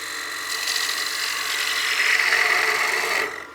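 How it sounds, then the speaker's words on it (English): A wood lathe gouge cuts a spinning coin box blank from rim toward center, producing a steady, close, continuous scraping hiss that swells slightly near the end before stopping abruptly. "I'm going to flip the gouge over and cut from the rim towards the center"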